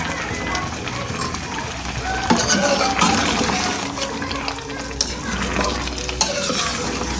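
Chicken fries in oil or ghee with a dense, close sizzle and crackle under repeated stirring strokes and occasional scrapes of a utensil against the pot, no speech.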